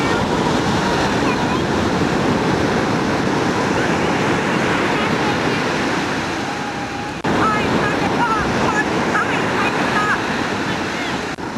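Loud, continuous roar of ocean surf washing in on an Oregon beach, with wind buffeting the microphone and a fresh wave rushing in midway, while people talk faintly in the background.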